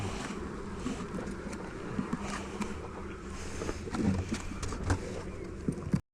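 Honeybees buzz steadily at a busy apiary hive during honey super placement, a dense continuous drone close by with light knocks and rustles of hive work and no talk.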